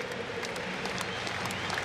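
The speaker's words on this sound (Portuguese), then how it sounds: "E a torcida do Inter canta." Internacional supporters singing and cheering throughout a football stadium at the reopened Beira-Rio, a continuous dense crowd roar with no clear pauses.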